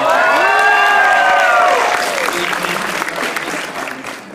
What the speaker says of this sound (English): Let's give that Stein a round of applause.